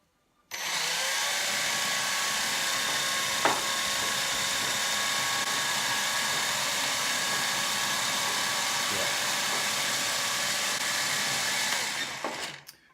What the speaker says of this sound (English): I just need this quadcopter not to take off like it just did.